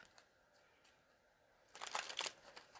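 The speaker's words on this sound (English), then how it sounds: "Let me shuffle these up for Taurus" Oracle cards are shuffled by hand during a tarot-style reading: soft scattered taps at first, then a dense, crisp burst of riffling and flicking cards up close, alone without talk.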